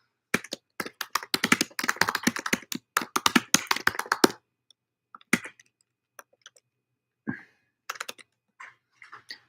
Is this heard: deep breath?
no